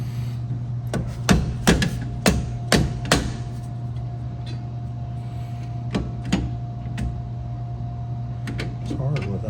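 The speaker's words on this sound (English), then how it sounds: "I'm going to get a rubber hammer so I don't beat my hand up." A rubber hammer striking an engine part while working on a car build, sharp hard knocks in irregular bursts over a steady mechanical hum, with some talk.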